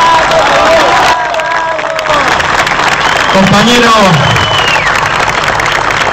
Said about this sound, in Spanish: digno que te brindemos el más grande de los aplausos